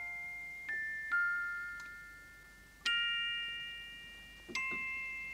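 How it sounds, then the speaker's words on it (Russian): Romanov house clock chiming in clear metallic bell tones: four separate strikes, each ringing out and slowly decaying, heard alone against a quiet room. "Часы дома Романовых предвещают только победу."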